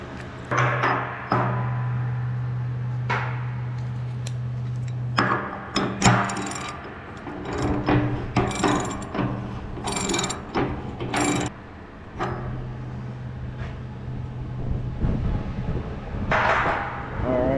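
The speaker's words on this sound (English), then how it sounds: "so our gauge is ready to get dropped into the tank. So we'll slowly drop that in. And we'll just start tightening it down" A gauge being tightened down into a propane tank during revalving, with repeated ratcheting wrench clicks and metallic turning sounds in bursts, close by, with a steady low hum in places.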